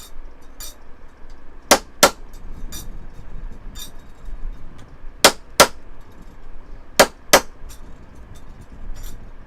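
Metal spoons flattened one by one in a bender press ring out with sharp, loud clangs, arriving mostly in close pairs against a quiet workshop background with no talk.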